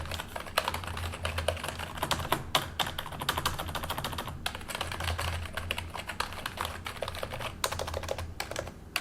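Typing on a Corsair K55 non-mechanical keyboard, a soft continuous patter of quick, muffled key presses with occasional heavier taps, close up and without talking.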